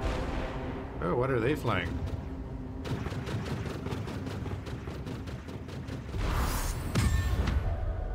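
Gunfire and artillery in the steampunk video game Bulwark: Falconeer Chronicles, with a rapid rattling burst of shots, then heavier booming impacts near the end, over game sounds, while a person talks briefly.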